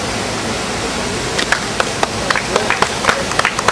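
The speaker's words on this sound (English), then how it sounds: "Please hold your applause" At an outdoor Memorial Day 2008 veterans' rally, steady broadband crowd noise carries a scattering of distinct claps that pick up toward the end, a loose, thin applause rather than a full ovation.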